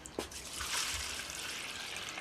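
Water from a tap trickles and splashes into a bowl of fenugreek sprouts, a soft, close liquid pour running steadily for a couple of seconds.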